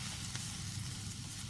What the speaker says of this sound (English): we're going to continue to saute our vegetables